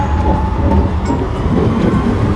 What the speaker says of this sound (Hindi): फिर दूसरा मेट्रो आ गया, ये देखें